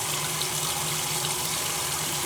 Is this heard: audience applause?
no